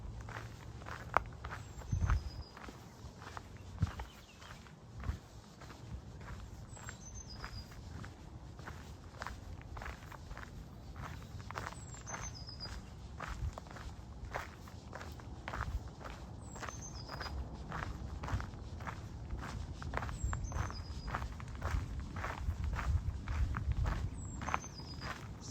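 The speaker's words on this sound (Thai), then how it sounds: "ตอนนี้ก็กำลังเดินลงเลยถ่าย บรรยากาศขาลงให้เพื่อนๆได้ชมด้วย" Footsteps descend a steep, rocky mountain trail in a Norwegian forest, steady crunching strides close to the recorder, with birds chirping in a regular repeating pattern overhead throughout.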